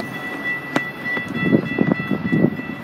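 An Amtrak train passes through Burbank station, a rumbling pass with clattering bursts and a brief sharp high tone near the start, close and fairly loud.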